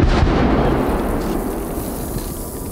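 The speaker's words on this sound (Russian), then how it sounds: "Звуки взрывов между деревьями становятся эхом, и кажется, что звучат отовсюду." A heavy wartime explosion rumbles and echoes among forest trees, a loud low boom whose reverberating roar slowly fades over a few seconds, with no voices.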